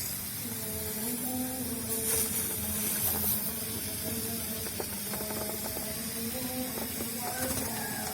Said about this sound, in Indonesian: Oke, akan saya pompa lagi dan saya semprot lagi.